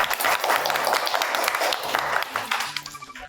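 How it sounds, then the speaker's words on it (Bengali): An audience on a Bengali family game show claps loudly in a sustained burst of applause, with voices talking over the clapping as it tapers near the end. "জোরে হাততালি"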